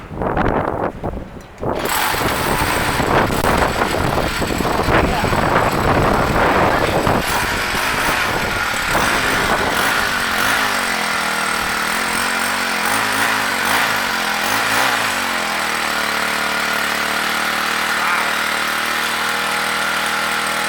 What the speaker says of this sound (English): So it runs. I got a Weedeater now.